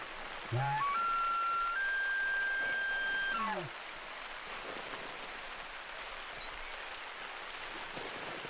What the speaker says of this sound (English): And now it's gonna rain.